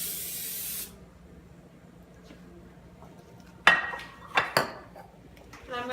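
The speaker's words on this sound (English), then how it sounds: "I have a casserole dish here, and I'm gonna lightly grease it over the sink" Cooking spray hisses loudly for under a second as grease goes into a casserole dish over a sink, followed by a few sharp clinks and clatters of the dish after a quiet pause.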